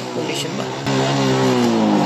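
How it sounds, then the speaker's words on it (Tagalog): A Suzuki Smash 115 motorcycle being checked for a low-battery problem revs up, its engine note rising and growing louder after a brief idle, with someone talking briefly over it. "Umandar na ating motor at i-rave natin kung goods ba,"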